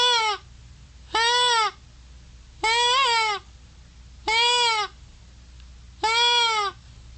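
A hand-blown deer call imitates a doe bleat: five short, nasal, wavering bleats spaced evenly about a second and a half apart, close and clear over a quiet background.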